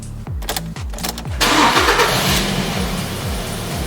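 A Ford Focus with an immobiliser fault cranks with rapid rhythmic starter pulses, then catches and fires into a steady close idle with a brief rev.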